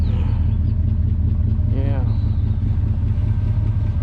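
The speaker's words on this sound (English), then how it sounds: "No mistaking that old Power Glide. It sounds louder. That transmission sounds louder than the engine." An old Chevrolet with a Powergide transmission driving along, its transmission whine louder than the engine. A steady, loud mechanical drone runs throughout, with a brief voice partway through.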